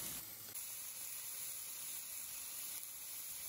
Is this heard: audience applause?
no